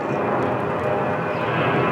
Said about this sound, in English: we'll go to our handles where we will pull this to start the engine